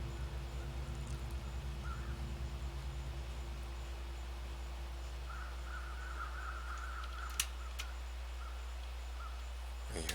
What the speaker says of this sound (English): I hear some crows,